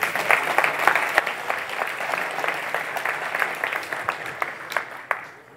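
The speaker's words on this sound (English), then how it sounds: "so, your applause for Mr. Stefan Priebsch, please." A crowd claps steadily in a sustained round of applause that gradually thins out toward the end.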